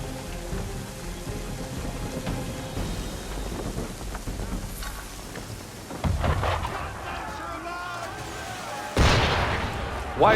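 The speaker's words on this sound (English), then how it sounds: "Why is he shooting at us?" Heavy booming shots fired at a ship in Assassin's Creed 3, a rumbling barrage with two sharp, louder blasts near the end over a low, noisy background.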